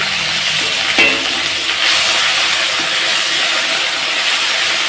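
Ground ginger-cumin paste with two or three green chillies frying in a hot pan, a steady bright sizzle and hiss with a few stirring clatters, close and continuous with no talk.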